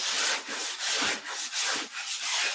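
Hand sanding of sprayable filler on a car body panel previously taken to bare metal, a loud, close rasping rub in quick back-and-forth strokes, about seven in a steady rhythm.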